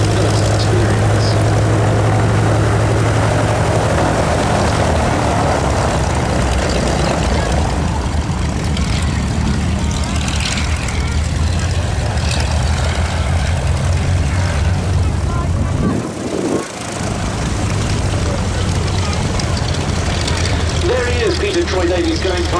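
An autogyro flies past at the Duxford summer air display, its propeller engine a loud, sustained drone that swells and shifts as it passes close by, continuous throughout.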